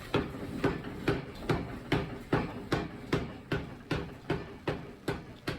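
A hammer strikes metal in a steady, evenly spaced rhythm, about a dozen ringing blows at close range with nothing else in between, while forging a bolo blade.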